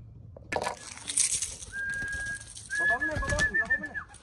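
A racing pigeon arrives at the loft with a wing flutter, a low coo and scuffling, while a thin whistle sounds nearby.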